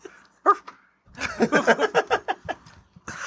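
A voice imitating a dog's barking gives a rapid run of short, loud woof-like yelps, close and alone after a brief opening bark.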